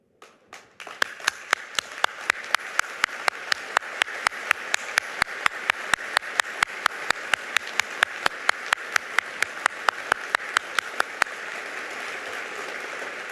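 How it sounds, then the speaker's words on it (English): Mourners at a sheriff's deputy's funeral applaud together, a dense, steady clapping that starts after a few scattered claps and carries on evenly for over ten seconds, with sharp individual claps standing out over the wash. "Please let us rise and applaud the life of Deputy Coddou."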